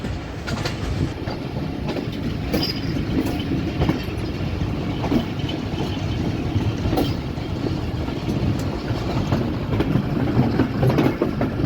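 The Rehman Baba Express 48 Dn runs through the Taxila hills between Taxila and Rawalpindi, giving a steady, close rumble with rhythmic wheel clatter that continues unbroken and with no voices.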